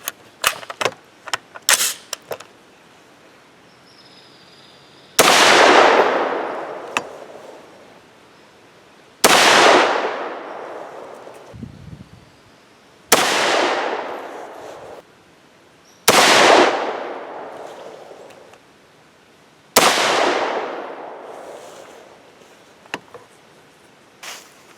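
Five loud, close 300 Blackout rifle shots firing 208gr Hornady A-MAX bullets over Reloader 7 powder, spaced several seconds apart, each with a long fading outdoor echo, preceded by a few sharp clicks and taps.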